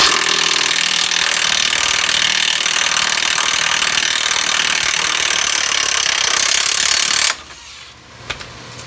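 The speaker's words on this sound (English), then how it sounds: "take a 27 millimeter socket, use it on the head of the bolt side here to try to spin this free" A loud, continuous grinding and rasping of a 27 mm socket wrench working a stuck, corroded bolt on a Ford F-150 front suspension, close up, that cuts off abruptly near the end, followed by faint clicks.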